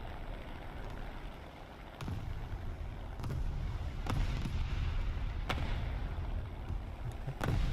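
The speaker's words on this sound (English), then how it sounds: "that was HEVT from USS Moffett" HE-VT shells from the US destroyer USS Moffett burst in a War Thunder naval battle, a string of five or six muffled booms at irregular intervals over constant wind and sea rumble.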